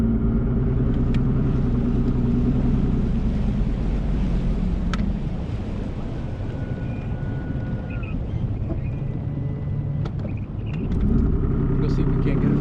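An outboard motor on a fishing boat at Potholes Reservoir drones steadily and loudly through a ride, with wind buffeting the microphone and someone talking over it at times.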